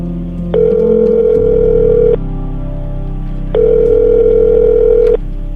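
Telephone ringback tone repeating twice, each a steady electronic purr lasting over a second with a pause between, loud and close, with no voices.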